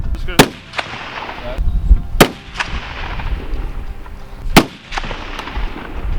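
Rifle fire at a long range shooting school: three sharp, loud shots spaced a couple of seconds apart, each followed by a short echoing report and fainter distant pops, with outdoor background noise and some talking between shots.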